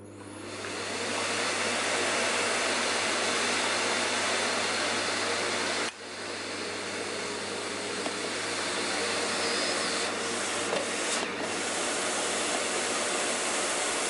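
Bagged upright vacuum cleaner switching on and running as a loud, continuous motor roar with steady rushing airflow, dipping briefly once midway before carrying on.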